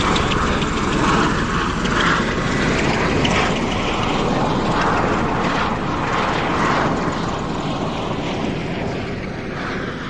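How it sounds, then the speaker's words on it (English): An Osprey aircraft flies at an airshow with a loud, steady, full-bodied engine and rotor roar that holds for the whole stretch and fades only slightly toward the end. "We expect now to see the Osprey making a total penetration descent into normal nice approach one."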